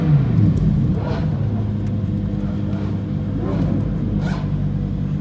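Lamborghini supercars waiting at the start of the Goodwood Festival of Speed hill run, a deep close engine rumble with a couple of brief swelling revs rising above the steady idle, loud and without talk.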